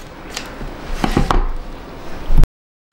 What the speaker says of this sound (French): Donc j'ai découpé le surplus de zip de chaque côté